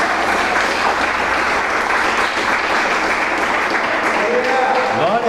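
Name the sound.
congregation applause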